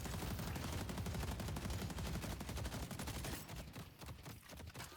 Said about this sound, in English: Putting down a turret.